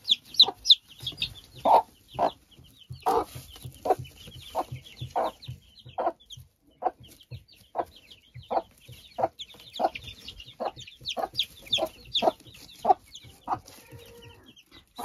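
A nervous hen clucks close by among her chicks, giving a long series of short, sharp clucks in an uneven rhythm with occasional faint peeps in between.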